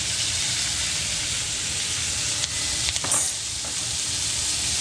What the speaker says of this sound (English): Now we're going to add our mirepoix.